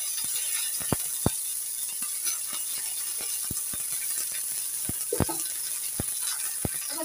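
Ginger paste dropped into hot oil with bay leaf, dried chilli and cumin, giving a steady soft sizzle broken by sharp clicks of a spatula scraping and stirring the pan, close and fairly quiet.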